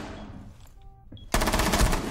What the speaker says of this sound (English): Oh, he wall bangs him through the barricade.